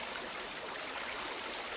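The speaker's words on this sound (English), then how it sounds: "This creek here is, I guess it's just called the creek." A small creek flows steadily in a countryside meadow, a continuous broad rushing and trickling wash of water that holds even and close throughout, with no voices.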